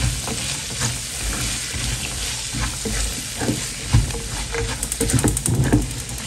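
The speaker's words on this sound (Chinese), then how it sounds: "接下来把配菜倒入锅里面，炒至断生" Side vegetables are stir-fried in a wok, with dense sizzling under repeated scraping and clattering of a spatula against the pan, all close and continuous.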